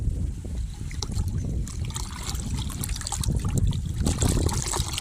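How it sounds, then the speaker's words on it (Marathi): Magnesium nitrate solution is poured into a bucket, making a continuous close-up splashing and trickling of liquid with a low, churning rumble underneath. "औषध वचतोय बादलीमध्ये मॅग्नेशियम नायट्रेट"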